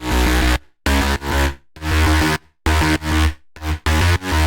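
Dirty, distorted synth bass patch built in Vital in the style of a song, playing loud rhythmic stabs and short phrases separated by brief silences.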